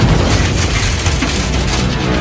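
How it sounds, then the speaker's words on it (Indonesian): A German Tiger tank's cannon shot strikes an American tank, a loud, sustained booming rumble with heavy low-end roar that fills the whole stretch without clear breaks. "Terkena tembakan meriam, dari tank Jerman"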